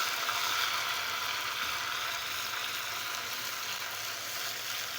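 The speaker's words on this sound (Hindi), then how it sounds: "ज़ीरा फ्राई होना शुरू हो चुका है। अब हम डालेंगे लहसुन अदरक।" Cumin seeds fry in hot oil as garlic and ginger go in for an arvi chicken curry, a steady, even sizzle filling the whole stretch with no voices.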